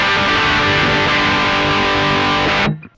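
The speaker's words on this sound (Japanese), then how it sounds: "これに前段に置いたチューブスクリーマーをオンします。" Heavily distorted electric guitar, the Koch Pedaltone preamp boosted by an Ibanez NU Tube Screamer NTS, one sustained loud chord ringing for nearly three seconds before cutting off abruptly.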